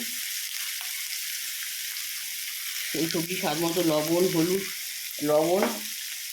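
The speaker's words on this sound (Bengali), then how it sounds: "আগে লবণ দিয়ে পেঁয়াজটা অল্প ভাজা ভাজা করে নেবো।" Onion sizzles steadily in a hot pan with salt added, a constant hiss of frying running the whole time while someone talks over it in two stretches.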